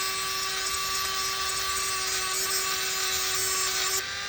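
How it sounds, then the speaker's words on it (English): A power tool used like a grinder whines steadily as it cleans spots on metal before welding a broken minivan seat recline part, heard as a continuous, fairly quiet buzz for about four seconds. "Use it kind of like a grinder. Just clean up 3 spots before we weld."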